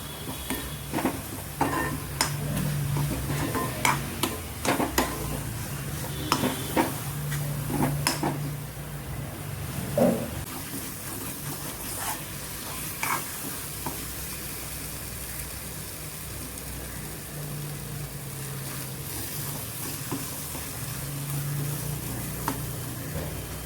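Sambar mix stirred and frying in oil in a pan for a Kerala sambar, with a steady sizzle and repeated scraping clinks of a spoon against the pan.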